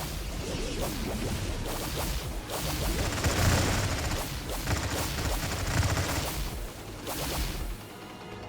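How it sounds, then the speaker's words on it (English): Deployable cannons firing in the battle game Stargate at War, a dense volley of overlapping shots, whooshes and crashing impacts sustained at moderate loudness throughout, with no voices. "The ones that have the deployable cannons do a lot of damage."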